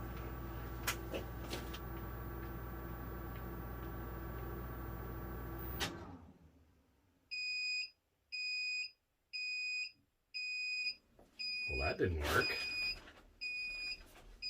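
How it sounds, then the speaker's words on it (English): A loud continuous electronic tone cuts off, then a Sol-Ark 12k inverter's high-pitched HVAC overcurrent fault alarm beeps in regular bursts as an air compressor starts, while a person briefly speaks. "Some alarms."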